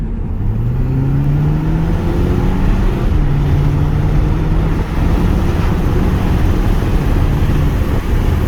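Audi TT 2.0 TFSI from 2008 driving on the road, with a steady loud engine and road roar that holds through the stretch, rising tones suggesting the car pulling and then slowing under braking, with no talk.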